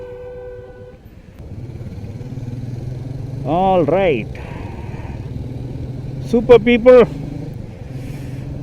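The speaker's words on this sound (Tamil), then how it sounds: "பைக்குடைய ரம்பில் கேட்குறதுக்கே செம்மையாக இருக்குது" A motorcycle engine rumbles steadily and low throughout while someone talks over it, on a morning ride in traffic in Chennai.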